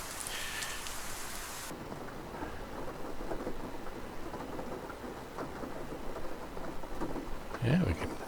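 Steady rain falls around a UH-60L Black Hawk helicopter in the DCS flight simulator at Kandahar, a continuous wash of patter with a faint thunder rumble and a brief low thump near the end.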